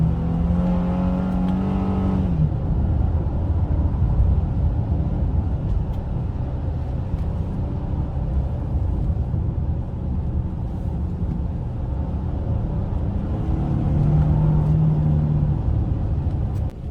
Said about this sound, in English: Now this is me checking the pedal shifters on this vehicle.